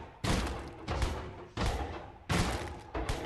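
Gunfire from a modded SKS rifle in Minecraft, heard as five heavy booming shots spaced roughly every half second to second, each with a brief decaying tail, loud and with no one speaking.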